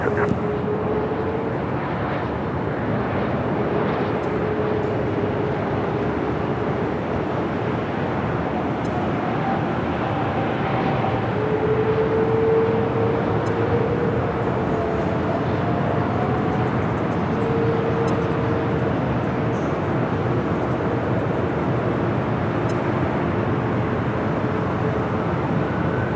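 An airliner takes off from runway 24 left at LAX, a steady roaring engine noise heard from a distance that swells and holds for the whole stretch.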